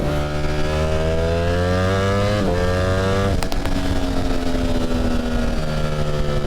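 A liter-class sport motorcycle cruises at about 90 mph, its engine droning steadily and loudly up close with shifting harmonic pitch and continuous wind roar.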